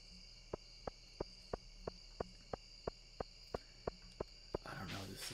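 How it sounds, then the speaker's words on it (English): Cricket chirps sound in the nighttime ambience of the farming game Stardew Valley: a steady, evenly spaced run of short chirps over a soft insect drone, quiet and alone. A brief burst of noise ends it. "The ambience behind, like, the ambient sounds right now. The crickets and such."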